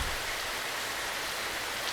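Rain falling in the video game Fallout 4 with the Fallout London mod, an even wash of dense hissing noise with no break, steady and fairly loud, no voices.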